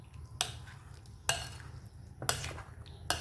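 Bitter gourd (ampalaya) with a beaten egg mixture being stirred in a pan, four sharp scraping clacks of a utensil against the pan roughly once a second over a soft sizzle.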